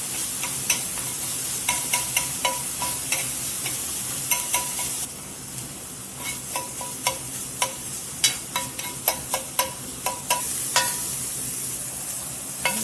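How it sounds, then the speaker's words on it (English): Sausage browning in a wiped-out skillet, sizzling steadily throughout while a spatula scrapes and taps the pan in irregular bursts, close and fairly loud. "We got the sausage browned up pretty good"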